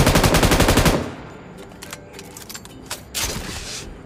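Rapid automatic gunfire in PUBG Mobile, a loud dense burst for about a second, followed by quieter scattered shots, clicks and a few more distant bursts.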